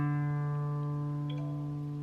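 A guitar tuner gives a bright bling chime over a sustained, fading guitar string note, quiet and close, confirming the pitch is correct, with no voices.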